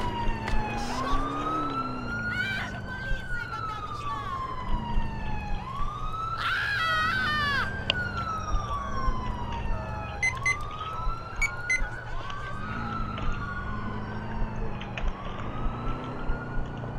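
A wailing ambulance siren in Grand Theft Auto IV rises and falls repeatedly over a low engine rumble, loud and continuous, with sharper electronic tones layered on top.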